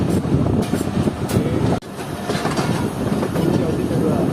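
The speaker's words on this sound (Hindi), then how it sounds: "तो ट्रेन ट्रैक चेंज करके मेन लाइन पर आ रही है, लूप लाइन को छोड़ रही है" Jaffer Express crosses from the down loop line onto the main line through the points, loud rolling carriage rumble with clattering wheels and one abrupt dip partway through.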